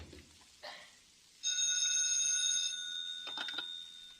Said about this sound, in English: Oh, Mikhail, you shouldn't phone me.